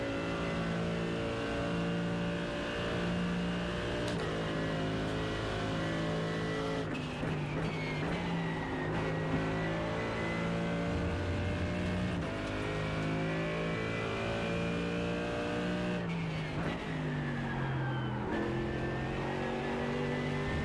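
A Mercedes GT3 race car lapping Road America in a racing video game, its engine droning loudly and continuously, rising through the gears, then dropping sharply on downshifts into corners before climbing again.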